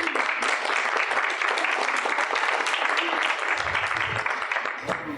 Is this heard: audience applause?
yes